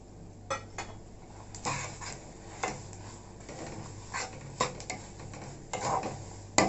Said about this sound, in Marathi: हे सारखं आता हलवत राहायचं